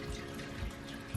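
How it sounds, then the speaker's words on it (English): Water trickling and draining out of the bottom of a freshly watered houseplant pot, a soft steady faint flow with a small splash near the end. "make sure the water is running out of the bottom of the pot"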